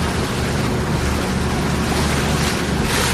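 Sailboat running under engine on a calm, hazy sea off Brittany, a steady broadband rush of hull, water and wind noise filling the whole stretch with no pauses or voices.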